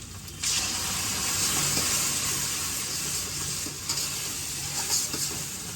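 Ground masala paste for egg curry hits a hot pan and fries with a loud, steady, close sizzle that swells after a brief quieter start and stays dense throughout, with a few stirring bumps.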